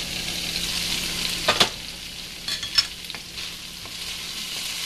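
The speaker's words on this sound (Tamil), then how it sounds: "நம்ம ஒரு தடவை ஓப்பன் பண்ணிவிட்டு ஒரு தடவை கிண்டி விட்டு பார்க்கணும்" Sago upma stirred in a pan, a soft steady sizzle with a few brief scraping strokes around the middle, close and fairly quiet, no talking.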